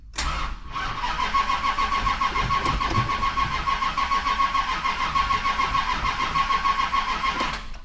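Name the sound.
car engine cranking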